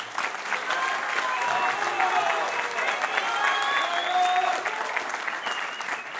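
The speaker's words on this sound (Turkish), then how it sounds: "Mehmet Akma başkanımıza kocaman kocaman bir alkış istiyorum." A crowd at a Balıkesir party congress bursts into steady, dense applause that holds loud and even for about six seconds, with a faint murmur of voices mixed in.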